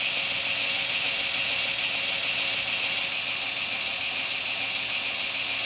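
A 2x72 belt grinder fitted with a new motor spins at speed, giving a steady, loud, high-pitched whir and hiss that holds constant throughout with no talking.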